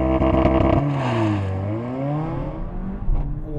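A Mercedes-AMG A45 S makes a race-start launch, its engine revving hard with rising and falling tones through rapid gear changes, loud and close from inside the car.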